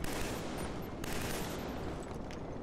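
A chain gun fires in the Killzone 3 video game, a dense, continuous burst of rapid gunfire with a few sharper cracks standing out, loud and close, and no speech.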